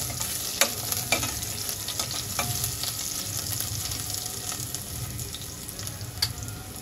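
Garlic and a torn bay leaf frying in oil in a pan for moong dal khichadi, a steady close sizzle with scattered scraping stirs and small pops throughout, no voices.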